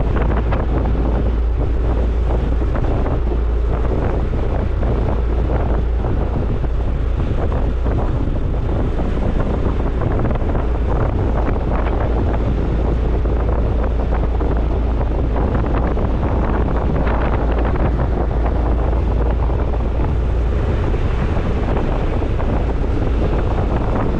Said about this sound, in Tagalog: Lakas ng hangin at alon.